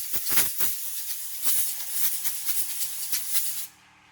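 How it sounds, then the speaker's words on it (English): An air compressor kicks on in a workshop during chainsaw sharpening, with sharp bursts of hissing air and mechanical chatter that run close and loud for several seconds before cutting off abruptly. "The bloody compressor turned on."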